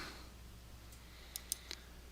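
A computer mouse clicks in LP360 point-cloud software: three faint, quick clicks come late in an otherwise quiet stretch with low background hum.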